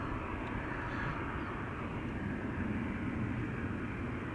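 An Airbus A350 jet at Schiphol's Polderbaan runway gives a constant, heavy engine roar that stays loud and even from start to finish.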